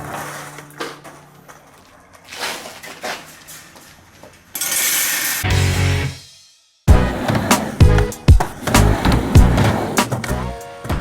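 Skateboard wheels roll and clatter at a skate park with repeated board clacks and knocks, up close and fairly loud, broken by a brief silent gap before the rolling resumes.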